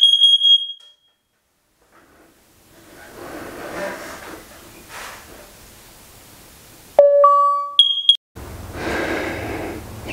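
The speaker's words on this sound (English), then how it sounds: "So it's going to do the test in 10 seconds. Testing smoke." Shrill electronic beeps from a Google Nest smoke and carbon monoxide alarm self-test sound at the start and again near the end, with quiet muffled talking and background noise in between.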